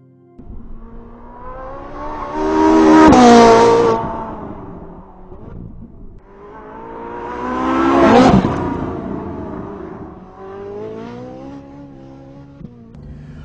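A sports car engine revs hard twice, each rise climbing to a loud peak and falling away, then a quieter settling hum, with no one speaking.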